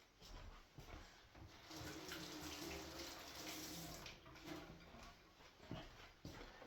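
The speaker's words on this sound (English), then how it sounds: "Wash my hands." A kitchen tap runs steadily while hands are washed under it, a soft, continuous splashing of water with small shifts and taps as the hands move, heard quietly from a short distance.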